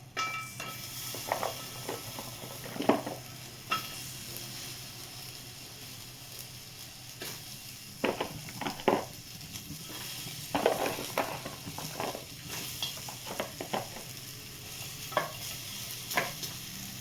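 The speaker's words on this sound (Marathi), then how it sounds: "आता या कढईमध्ये खजूर टाकून घ्यायचे।" Dates being stirred and fried in a kadhai for dry fruit ladoos, with a low continuous sizzle and repeated scraping, clinking strokes of a spatula against the pan, irregular and close.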